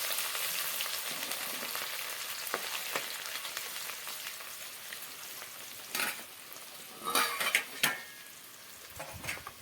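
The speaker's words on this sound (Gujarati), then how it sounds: "મરચું નાખી દઈએ, લસણ નાખી દઈએ લીલું, આદુ નાખી દઈએ ખમણેલું." Chili, green garlic, grated ginger and whole spices fry in a hot pan, a steady close sizzle with stirring scrapes and a few louder clatters of the spoon near the end, no voices.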